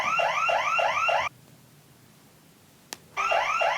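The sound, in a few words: burglar alarm sounding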